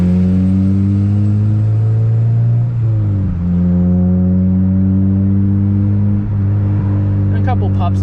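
A 2013–2015 Honda Civic Si engine idles and revs close by, a loud, steady tone with a couple of dips and rises in pitch. Any exhaust pops show up only as faint crackles near the end.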